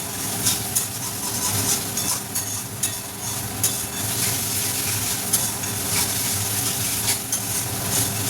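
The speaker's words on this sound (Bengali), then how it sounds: "আদা রসুনের পেস্টটা দিয়েও ভালো করে নাড়তে হবে।" Ginger-garlic paste sizzles in hot oil with pointed gourd for a Bengali tel potol dish, a steady close-up frying hiss broken by frequent scraping stirs of a spoon in the pan.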